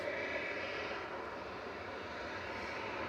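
Ryanair Boeing 737-800 jet engines at Manchester Airport, a steady, moderately faint roar with a broad hiss and low rumble, continuous and unbroken for a few seconds with no talk.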